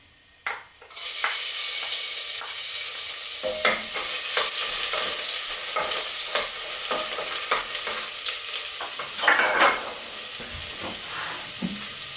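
Whole spices (cloves, star anise) and garlic frying in hot oil for a chicken tandoori kebab and yellow rice dish, a loud steady sizzle starting abruptly after a second, with stirring clatters and scrapes throughout, no talk.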